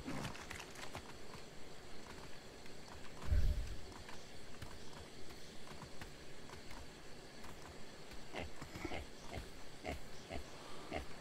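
Pigs oinking and grunting in the survival video game Atlas, a scatter of short snorts over low ambient game noise, with one louder thump midway.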